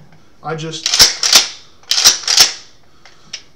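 The pump action of a Mossberg Maverick 88 shotgun is racked twice, each cycle giving a pair of sharp, close metallic clacks, with a softer click at the end.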